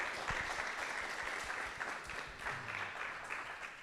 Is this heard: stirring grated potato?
no